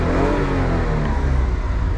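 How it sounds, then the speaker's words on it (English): Small engine of a kei van revving in place, a loud steady drone with a gently rising and falling pitch, heard close up with no talking. "I'll give it some revs."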